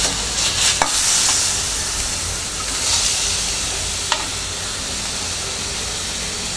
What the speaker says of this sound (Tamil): நம்ம கிளறி விடலாம்.